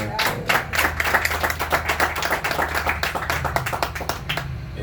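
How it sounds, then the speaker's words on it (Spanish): Applause from a small bookshop audience at a talk on César Vallejo, steady rapid clapping throughout at moderate volume with a low hum beneath. "Un aplauso para Georgette, por favor."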